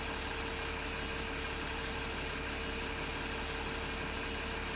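Steady, continuous tractor engine idle from Farming Simulator 2015, a low, even mechanical hum with constant vibration and no variation in level, heard alone without talk.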